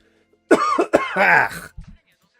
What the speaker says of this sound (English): As I cough up a lung.